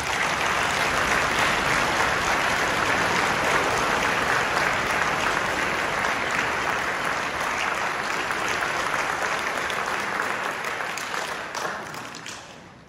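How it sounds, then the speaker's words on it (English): A school concert audience gives sustained applause for a wind ensemble conductor, a dense, steady roar of clapping that holds evenly for several seconds before fading out near the end. "Please give a round of applause to Dr."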